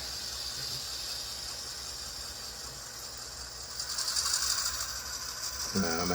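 Bachmann N scale GP38-2 model locomotive with its motor running, a faint high whirring and ticking mechanism that grows slightly louder and rattlier toward the end.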